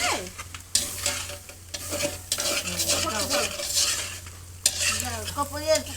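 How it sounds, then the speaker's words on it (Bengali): Spice masala stirred and fried in a pan, a spoon scraping and clinking against metal in irregular strokes over a steady close sizzle, with no talking. "ও আচ্ছা ওটা মশলা ছিল আমি তো ভাবছি চাটনি ঘাটা হচ্ছে"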